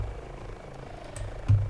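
Airbus H145 helicopter in Microsoft Flight Simulator, heard from outside during a rescue mission: a steady low rotor and turbine drone held at moderate volume, with a slight swell near the end.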